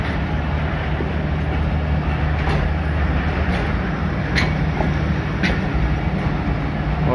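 Jaffar Express pulling away from Gujrat railway station, a loud continuous low rumble of the train with steady engine drone and occasional faint clanks, close and unbroken throughout.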